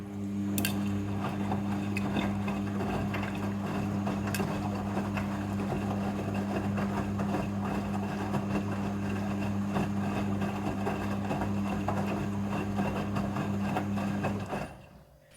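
A front-loading washing machine hums steadily through its second rinse cycle with trousers inside, a constant droning motor tone with faint water sloshing that runs evenly and then cuts off near the end.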